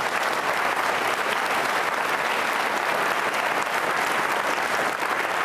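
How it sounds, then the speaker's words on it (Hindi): Loud, dense applause fills a Doordarshan television studio auditorium during an Independence Day quiz show with NCC cadets, a steady roar of many hands clapping without a break. "उनके सम्मान में एक बार तालियां जोरों से बजाइए।"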